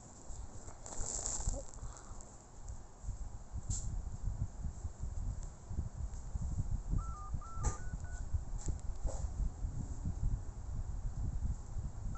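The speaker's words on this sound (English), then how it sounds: "Now I find my phone, so I will call Ow." A phone being dialed to place a call, short beep-like tones standing out briefly over steady rustling background noise, with no one talking.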